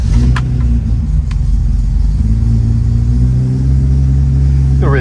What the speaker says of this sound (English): And how does it sound when I start it up? Well, I'll start it up for you.